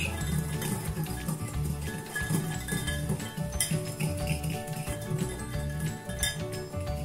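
Utensil clinking steadily against a bowl while salt, flour and sugar are mixed together for chocolate lava cakes, a continuous rattle of light taps over a faint tonal background.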